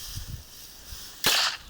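A single sharp handgun shot fired by tourists, a sudden loud crack with a short ringing tail, after a moment of faint low thumps and quiet background.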